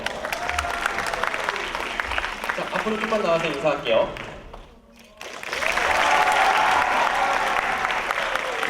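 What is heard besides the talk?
audience applause for the dance teachers after a performance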